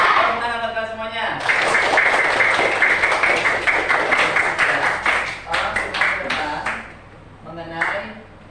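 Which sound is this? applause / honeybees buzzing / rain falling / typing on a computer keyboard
applause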